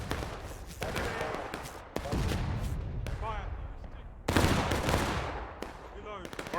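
Musket volleys crack out in a video game battle, with repeated sharp shots and a heavy burst near four seconds over a constant din, and voices can be heard amid the firing.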